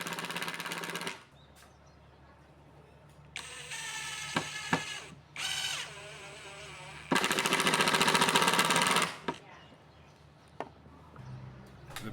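A power driver whirs in several bursts, driving screws into a wooden tripod head bracket, with short pauses and light clicks between the loud, buzzing runs.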